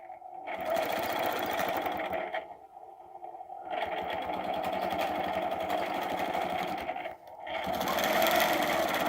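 A sewing machine stitches out a design in steady, loud bursts of rapid motor whirring, pausing twice briefly between runs, with no talking.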